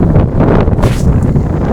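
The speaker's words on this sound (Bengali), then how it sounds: "তীব্র বাতাস" Strong dawn wind under a heavily clouded sky roars steadily and loudly against the microphone, a dense buffeting rush that never lets up and carries no voices.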